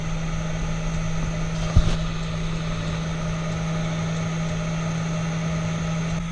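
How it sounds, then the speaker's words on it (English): Steady hum of a cooling fan running inside a Mitsubishi Outlander PHEV, a constant low drone with a faint tonal whine and one brief soft bump partway through, heard close with no talk. "You can hear the fan."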